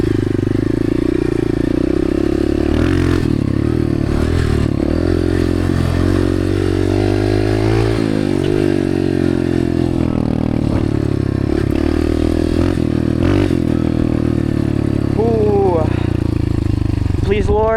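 Honda dirt bike engine warming up and revving at a track day, a loud continuous motor with rising and falling pitch swells and clattery mechanical noise throughout, close to the recorder, with people talking over it.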